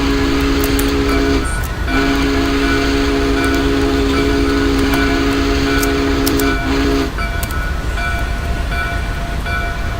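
A steam whistle on Union Pacific 844 in the Open Rails simulator game over Cajon Pass blows loud and steady in two long sustained blasts over continuous locomotive rumble.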